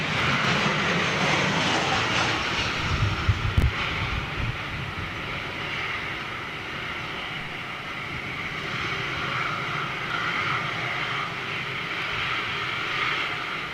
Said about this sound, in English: Those old Ryanair boys know how to handle a gusty landing.